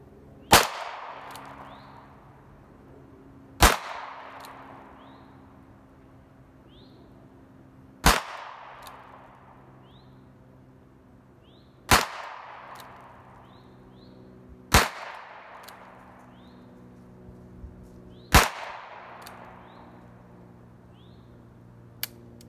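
Six sharp, loud gunshots from a Ruger Blackhawk convertible revolver firing .45 ACP at 15 yards, spaced evenly several seconds apart with ringing decays, followed by a faint click of an empty hammer snap.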